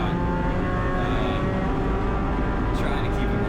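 Spec Miata race car at full throttle on track, a steady loud droning engine roar heard from on board, with a voice faintly present beneath it.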